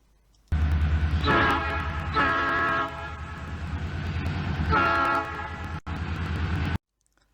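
Train sound effect, loud and close, with a steady rumbling run and two or three long horn-like toots rising over it before cutting off abruptly.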